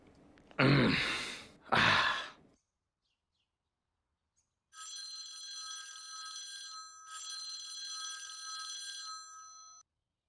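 A telephone rings in two long electronic trill bursts with a short break between them, clear and close, after two sharp breathy sighs or gasps.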